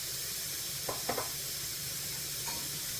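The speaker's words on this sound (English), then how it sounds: "To this, I'm now going to add my onions. And we're going to cook those off a little bit." Chopped onions and garlic frying in a pan for Greek style chicken give a steady, close sizzling hiss throughout, with a few soft stirring clinks in the middle.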